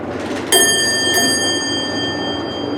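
A Westinghouse hydraulic elevator at the Hyatt Regency in Green Bay rings its chime twice: one loud, bright bell strike whose ringing tone lingers, then a softer second strike about half a second later, over steady mechanical room hum.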